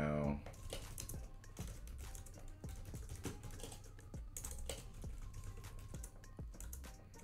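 Steady, rapid typing on a computer keyboard, close and fairly quiet, with dense clicks running through the whole stretch and occasional louder key strikes.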